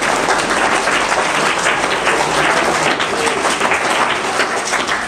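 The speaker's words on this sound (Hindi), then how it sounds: "एक बार जोरदार तालियों से आप सीताराम जी जांगीड़ का स्वागत करें" Loud, dense applause from an audience welcoming a guest at a community charity event in Ratangarh where sweaters go to needy students. The clapping is sustained and fills the whole stretch, with little talk.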